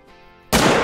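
A single loud .300 Magnum rifle shot fired at a whitetail deer in the hunting game Call of the Wild, a sudden broadband blast that cuts through quiet ambience and rings on to the end.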